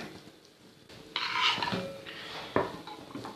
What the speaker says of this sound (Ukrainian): ставимо на плиту посудину, в якій ми будемо обсмажувати, а відтак і готувати